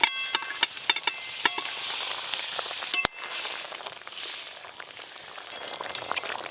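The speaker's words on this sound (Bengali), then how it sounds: "ঝোল তো বেশ ভালো করে ফুটে গেল। ভেজে রাখা সব কোপ্তাগুলো দিয়ে দেবো।" Fried sweet potato koftas dropped into a boiling curry broth in a rustic village kitchen, a busy bubbling sizzle with scattered clinks and stirring sounds, close and fairly loud, no speech.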